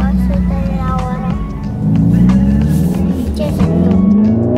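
A 2021 Mercedes CLA 45 AMG accelerates hard, its engine note rising in a loud, sustained climb with a brief dip as it shifts, while people talk over the roar inside the car.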